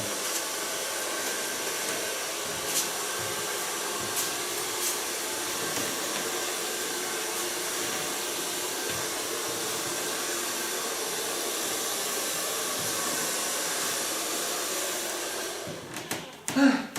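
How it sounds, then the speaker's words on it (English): Handheld hair dryer blow-drying a model's hair in a salon, a steady close airy whir running unbroken for about sixteen seconds before handling noises as it is switched off. "So far blow drying."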